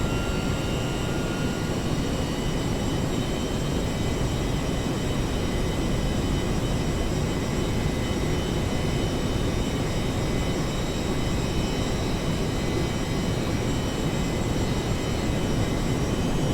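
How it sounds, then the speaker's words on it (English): In a flight simulator game, the third jet engine of a B-1A bomber spools up, a constant heavy roar layered with thin high whines, steady and loud for the whole stretch with no voices. "And here comes engine 3."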